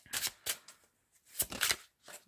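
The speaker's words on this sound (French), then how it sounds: "on va faire le tirage avec le tarot maintenant" Tarot cards being shuffled for a reading: quiet, crisp riffling bursts in a loose rhythm, about five short shuffles close to the listener, with no talk.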